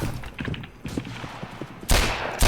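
Gunfire in the Roblox Westbound western game, with a few scattered sharp shots over a busy background and a louder broadband burst near the end, no talking.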